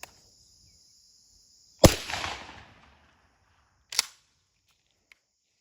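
Single 20 gauge shotgun blast with target ammo outdoors, a sharp loud crack with a brief decaying tail, followed by a fainter sharp snap a couple of seconds later.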